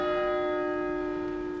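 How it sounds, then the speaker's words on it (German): Church bells ring on a Sunday with a steady, sustained metallic tone and layered overtones, fairly loud and continuous, with no voices. "Ich glaube, ihr habt die Kirchenglocken lang nicht mehr gehört."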